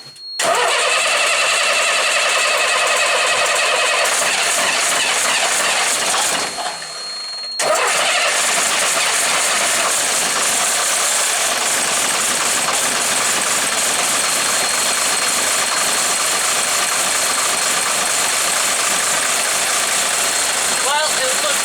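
An engine cranks and starts after fuel is hand-pumped, then settles into a loud, steady idle that runs on continuously; the engine is suspected of a cylinder 5 fault.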